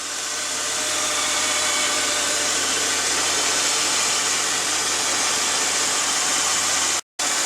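A 2004 Jeep Grand Cherokee with a 4.7L engine runs just after start-up following a water pump and thermostat replacement, giving a loud, steady, close rushing roar that cuts out briefly near the end.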